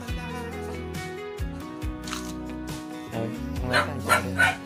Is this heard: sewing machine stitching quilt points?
no